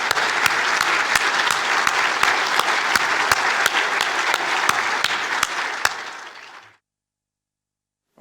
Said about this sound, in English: how about one more round of applause for all 4 of our laureates?